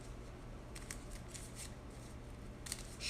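A deck of cards is shuffled, giving faint, soft riffling and flicking bursts in several quick clusters over steady low background hum, with no talking.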